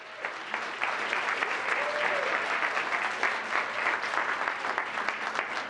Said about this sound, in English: Group 2, another big round of applause.